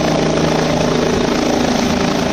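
A helicopter during a mountain rescue evacuation, its rotor and engine roaring loud and steady at close range with a constant thrumming beat throughout.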